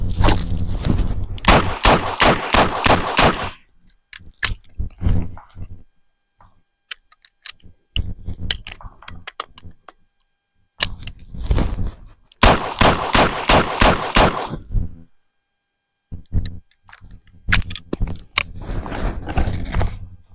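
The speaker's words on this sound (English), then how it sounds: "Let's shoot into the shot group, see how it goes." A Smith and Wesson 581 revolver fires .357 Magnum rounds at close range, sharp loud shots in two quick strings of about six, with pauses and range noise between the volleys.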